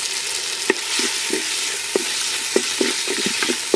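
Green chillies and tomato fry in a pan with a constant soft sizzle, broken by sharp, irregular taps as a spoon stirs against the pan.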